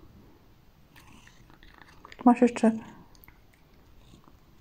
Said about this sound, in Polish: Jak to ładnie kotek je.